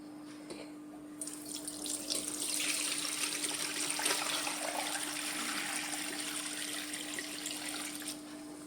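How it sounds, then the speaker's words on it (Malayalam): Pineapple wine pours through a sieve into a container, a close, steady trickling splash that builds after a quiet start and runs for several seconds, with a faint constant hum underneath. "നമുക്കിത് ഇതിലേക്ക് അരിച്ചൊഴിക്കാം."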